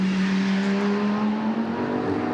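A BMW race car taking the lead in a 24-hour endurance race at Barcelona, its engine a loud, sustained high-revving drone, close and dominant for the whole moment.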